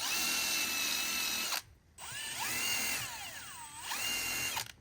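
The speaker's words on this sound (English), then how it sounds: "Trying not to destroy my drill at the same time here." A power drill fitted with a brush scrubs thick grime off car parts, giving a loud, steady whine that rises and falls as the speed shifts, with a short pause in the middle.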